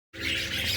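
Dilute and Rainbow parakeets chirping up close in a breeding aviary, a busy overlapping burst of bright tweets and squawks that starts abruptly.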